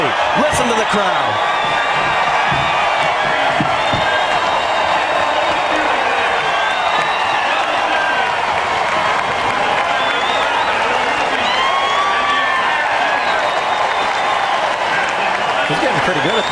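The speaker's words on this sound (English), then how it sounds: "Listen to the crowd." A large grandstand crowd roars and cheers at the finish of the 2009 Indianapolis 500 auto race, a dense, loud, sustained wash of voices with whoops and applause, and a commentator's voice talking over it.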